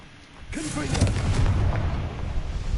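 A Confringo blasting spell goes off in a Harry Potter video game, a single sudden explosive boom followed by a sustained rumbling roar that fades only slightly.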